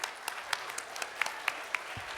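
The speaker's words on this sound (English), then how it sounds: "Can we please give them a round of applause?" An audience applauds students at a design, technology and social innovation workshop, a faint, distant patter of scattered claps with a few sharper individual hand claps standing out.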